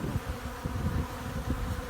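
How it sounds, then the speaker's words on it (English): A dense, steady buzzing of many bees swarming close by, a continuous droning hum with small surges and no talking. "these bees are going absolutely bonkers over this. Oh, I just love the sound of this activity."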